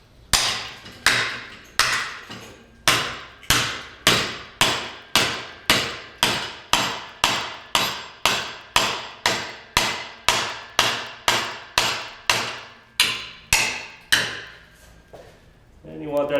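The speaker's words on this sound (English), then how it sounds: "grab yourself a big hammer" Heavy hammer pounding a 1/8 inch steel plate clamped in a vise to bend it, about thirty loud ringing metallic blows in a steady rhythm, close up and alone.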